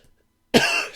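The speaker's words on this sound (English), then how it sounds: "I feel like I've had a cough forever." A single sharp cough from an adult, loud and close, bursting out after near silence and trailing off over about half a second.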